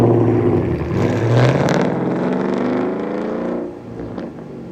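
Ford Mustang GT with an H-pipe, muffler delete and resonator delete roars loudly and up close, its raw exhaust note rising and falling through revs for several seconds before easing off near the end.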